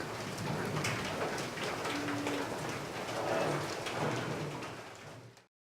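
Steady rain falls outside a home in India, a continuous soft hiss with scattered drops that fades out at the end.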